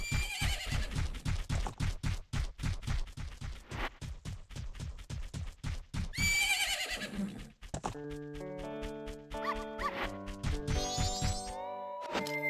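A horse in the Nintendo 64 game The Legend of Zelda: Majora's Mask whinnies loudly among clip-clopping hooves, followed by a bright game jingle of sustained synthesized tones.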